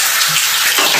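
Water sprays like a shower over a street, a loud, steady hiss that runs without a break for about a second and has no voices over it.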